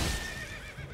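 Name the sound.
horse neighing in Elden Ring video game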